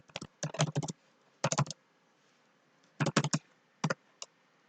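Computer keyboard typed on in quick bursts of crisp key clicks, separated by short pauses, close and fairly quiet.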